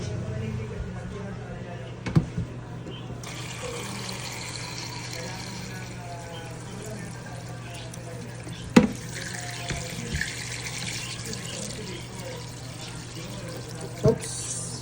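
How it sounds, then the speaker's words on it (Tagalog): Tap water runs steadily into a pot while lechon kawali is being prepared, a constant faucet rush with a few light clunks of the pot, continuing throughout. "Tapos, lagyan natin ng tubig."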